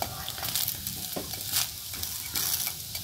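Food frying and being stirred in a pan for an evening home meal, a steady sizzle running throughout with a few louder stirring scrapes, close and without talk.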